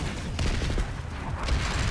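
Gunfire in a multiplayer shooter video game, a dense, low, rumbling fusillade of rapid shots that keeps going without a break for about two seconds.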